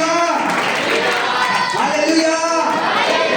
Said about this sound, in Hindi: जोरदार ताली बजाएं खुदा यीशु के लिए